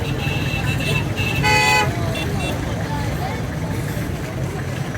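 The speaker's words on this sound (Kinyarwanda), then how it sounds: "Amahoni yavuye." Car horns honk in busy traffic around Nyabugogo in Kigali, with one loud, short toot standing out over a constant roar of engines and street noise while people talk nearby.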